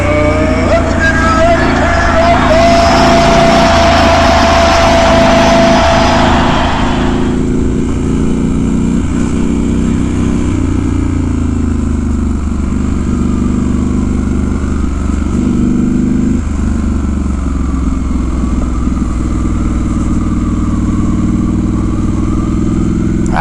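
A Triumph Scrambler 1200 XE motorcycle ridden off-road, its engine droning loudly and continuously at close range with steady throttle and slight pitch shifts, wind rush throughout, and a brief tonal whine early on.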